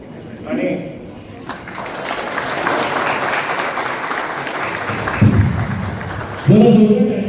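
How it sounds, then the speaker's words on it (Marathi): Loud audience applause during an honoring at a Rakshabandhan celebration, swelling into sustained clapping that runs for several seconds, with a voice speaking over it at the start and end. "जरा जोरदार टाळ्या वाजवूया."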